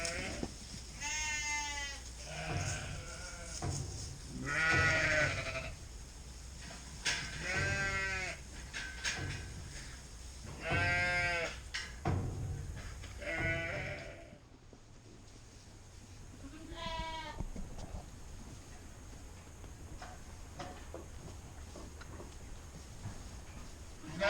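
Ewes and lambs bleating on a farm during weaning, repeated wavering calls from several animals, some close and loud, others fainter, with a pause near the end before one more bleat.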